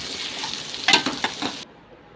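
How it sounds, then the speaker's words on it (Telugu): Sliced onions, slit green chillies and crushed garlic cloves frying in a pan of tempering oil, giving a continuous soft sizzle with a few quick stirring scrapes near the middle before the sound cuts off abruptly. "దీంట్లోనే ఒక 4, 5 ఉల్లిపాయలు సన్నగా తరిగి, ఒక 4, 5 పచ్చిమిర్చి పొడవుగా తరిగి అండ్ 4, 5 వెల్లుల్లి రెమ్మలు కూడా దంచుకొని వేసుకొని దీన్ని దోరగా వేపుకోవాలి"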